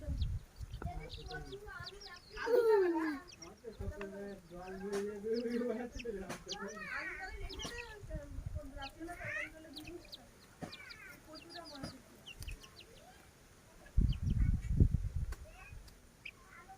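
Chickens cluck and chirp close by while being fed, with a person talking over the birds throughout and a brief louder rustle near the end.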